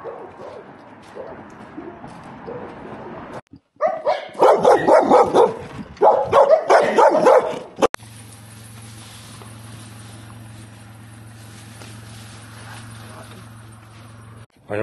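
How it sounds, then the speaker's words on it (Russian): Several dogs bark on a street in Subotica, Serbia, in loud, repeated bursts close by, with quieter footsteps and street ambience before and a steady hum after. "Я всех собак разбудил."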